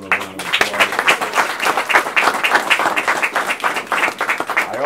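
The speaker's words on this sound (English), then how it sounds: "Please give him a round of applause." An audience at a speaking event in Columbia, South Carolina breaks into loud, sustained applause, dense rapid clapping filling the room throughout, with a brief voice at the start.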